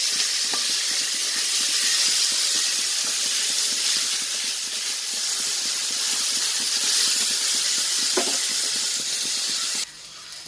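Small shallots and onions sautéing with salt in a pan for a Netholi anchovy fish soup, a steady loud sizzle and hiss running throughout with a few scrapes of stirring, no talk.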